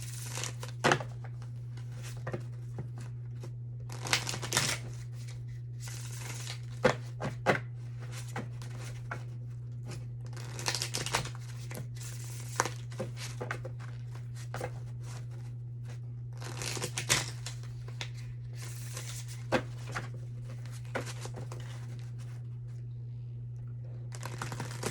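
Starseed Oracle cards are shuffled and handled close by, producing soft, irregular papery riffles and taps over a low steady hum.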